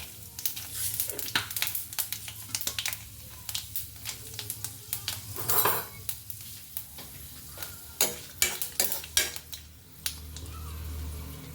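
Bay leaf, two dried red chillies and panch phoron are dropped into hot mustard oil in a kadhai. The sizzle stays low under repeated sharp clinks and scrapes of a spoon against the pan, with a brief louder burst midway.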